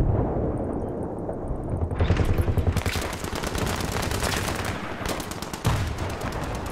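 Dense gunfire crackles through a 32-versus-32 multiplayer war video game, sustained rapid automatic bursts with heavy booms layered over continuous battle noise, loud and unbroken throughout, no voices.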